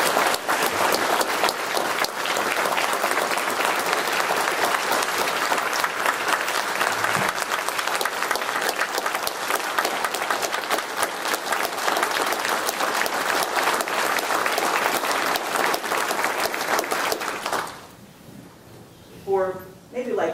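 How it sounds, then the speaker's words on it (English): Sustained, loud audience applause at an opening-day remarks event, a dense wash of clapping that carries on for about seventeen seconds before cutting to near quiet. "deserves a big round of applause for the work he has done"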